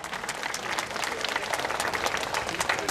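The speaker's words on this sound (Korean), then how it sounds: "여러분들 박수 한번 보내주시기 바랍니다." Applause from the audience at the opening address of the 38th Korea Gugak Festival, many hands clapping steadily and densely for a few seconds.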